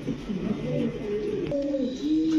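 Racer pigeons give soft, low throaty coos in short rolling phrases, close and fairly quiet, with a faint background hiss and no talking.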